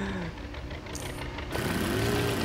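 A motorbike engine in the video game Lego Indiana Jones hums steadily, then rises in pitch and grows louder in the last second as it revs up.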